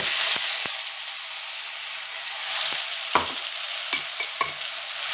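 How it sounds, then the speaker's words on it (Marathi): Ground spice paste hitting a hot pan with a steady sizzle and frying hiss, followed by a few sharp scraping taps of a spoon stirring it. It is close and fairly loud, with no talk. "त्याच्यानंतर हे वाटण टाकायचं"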